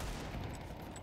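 Rapid bursts of gunfire in the video game Counter-Strike 2 run as a dense, continuous clatter for the whole moment, loud and steady with no pause.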